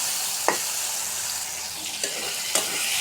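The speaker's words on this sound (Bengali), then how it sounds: "এই 3টা শুটকি আমি এগুলোর সাথে কিন্তু ভেজে নিব" Dried fish frying with tomato in a pan, a continuous bright sizzle broken by three sharp scrapes of a spatula stirring the pieces, close and clear with no talking.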